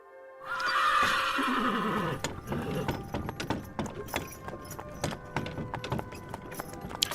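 A horse gives a long, loud neigh, then hooves clip-clop and harness gear jingles as the horse-drawn carriage pulls away, the steps steady and close.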